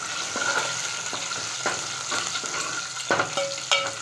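Curd chillies crackle and sizzle in hot oil while a spoon stirs and clinks against the pan, with onion being added, scattered sharp pops over a steady frying hiss.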